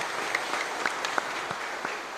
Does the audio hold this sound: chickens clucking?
no